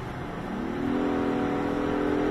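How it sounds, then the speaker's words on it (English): Heard from inside, an Acura TLX A-Spec SH-AWD at highway speed downshifts and accelerates at night, its engine hum rising and settling into a steady, higher drone. "then you hit the passing gear at this speed, then you'll see the RPMs will downshift into a lot better RPM range."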